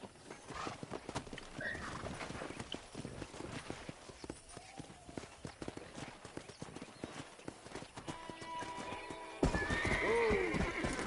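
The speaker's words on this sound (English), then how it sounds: "Let's see if we can't wrangle some horses." Horses in the Red Dead Redemption video game clop along continuously with dense hoofbeats, and a loud whinny rings out near the end over the steady trotting.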